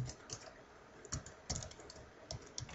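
Bursts of typing on a computer keyboard while entering code for an Arduino serial program, quiet and close, with irregular clusters of key clicks and short pauses.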